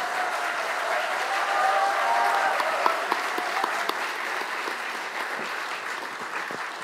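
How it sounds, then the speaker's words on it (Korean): Sustained applause from an audience welcoming a speaker at the 7th anniversary ceremony of the April 27 Panmunjom Declaration at the National Assembly, a steady dense wash of clapping that holds at even strength throughout. "큰 박수로 맞아주시기 바랍니다"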